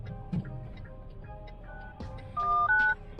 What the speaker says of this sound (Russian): И она мне звонит.